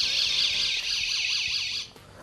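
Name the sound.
portable door alarm going off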